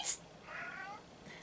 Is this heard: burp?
no